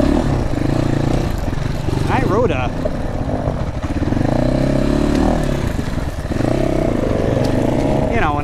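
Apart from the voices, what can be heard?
GPX FSE300r motorcycle engine revving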